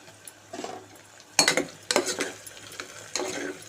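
Two green chillies frying in hot oil in a pan for a chamagadda pulusu, sizzling softly, with several sharp stirring clatters from a utensil against the pan in short bursts, close up.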